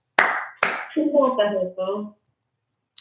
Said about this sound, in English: I'll give her a couple of claps.